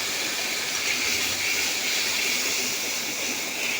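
Masala sautéing in mustard oil in a kadai, spiced with cumin, cardamom, cloves and cinnamon, gives a steady, even sizzling hiss that carries on without break, close up.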